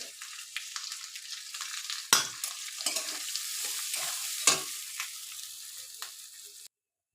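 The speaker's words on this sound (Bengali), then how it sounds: "চালটা একটু ভেজে নিতে হবে।" Rice fries in a pan for basanti pulao, a continuous dry sizzle broken by repeated scraping strokes of a spoon stirring the grains, close and fairly loud before stopping abruptly.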